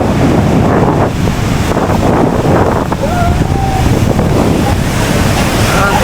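Sea waves surge and wash in a loud, continuous roar mixed with heavy wind buffeting the microphone, close and unbroken throughout.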